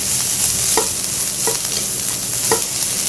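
Vegetables for chicken chow mein being stirred in a hot pan until slightly softened, with a loud constant sizzle and a spatula scraping through in about three regular strokes.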